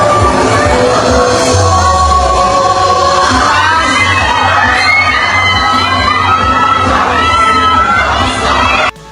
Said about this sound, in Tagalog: Hiyawan ang mga tao habang mabilis na dumaan si Bia.